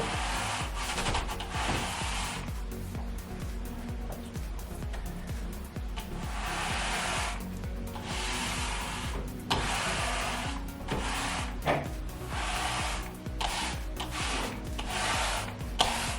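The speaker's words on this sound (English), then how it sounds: "what we're going to do is just work it onto the tile" An applicator works impregnating sealer into a riven stone tile, making continuous rhythmic scrubbing and rubbing strokes. The close, dry friction repeats steadily throughout, with no speech.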